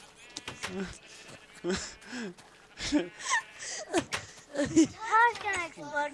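Blocky Minecraft sheep bleating several times in short wavering calls, clear and close, spread across the moment with a few breathy gasps between them.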